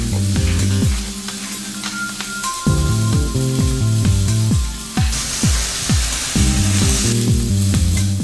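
Pork sirloin browns in a Durotherm pan with loud, close, steady sizzling and frying crackle, broken by clinks and rattles of the pan, with no voices.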